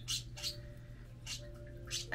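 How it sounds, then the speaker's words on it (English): Pet birds squawk indoors in repeated harsh, bright calls at a steady rhythm, fairly faint and a little distant over a constant low hum. "I thought you guys might like to hear the birdies squawking their little faces off."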